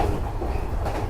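An old Kusatsu Line train in Shiga, Japan, heard from inside as it runs, with a steady loud rumble and wheel noise and a faint rhythmic clatter underneath.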